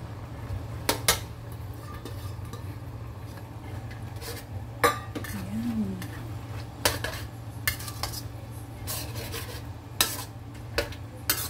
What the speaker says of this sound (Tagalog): Ilagay na po natin ang ating sitaw.